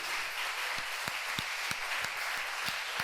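Congregation applauding in a church, a steady wash of clapping hands with a few sharper individual claps standing out at irregular intervals, moderately distant and continuous.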